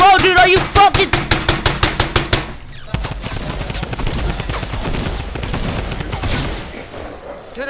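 Rapid bursts of gunfire from a drum gun in a shooter video game, a fast rattling string of shots at first, then a denser continuous barrage of shots and impacts.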